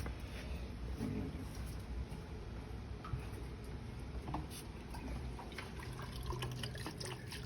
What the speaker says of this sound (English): I'm going to go ahead and rinse this out.